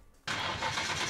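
In the SLRR video game, a twin-turbo RB26DETT engine in a 1965 Ford Falcon starts after a quiet moment: a sudden loud catch that settles straight into a steady, rumbling idle close up.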